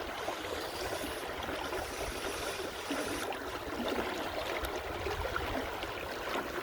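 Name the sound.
brook flowing into a New Brunswick river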